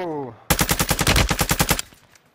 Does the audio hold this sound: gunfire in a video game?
yes